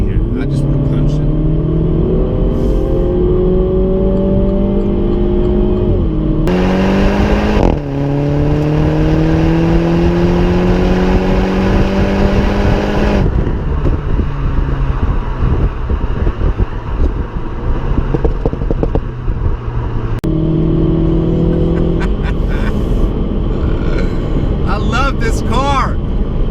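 A Mini Cooper S hatchback with a 189-horsepower front-drive engine is pushed hard, its engine note climbing through gears in loud rising sweeps with brief shift breaks, while a person talks throughout.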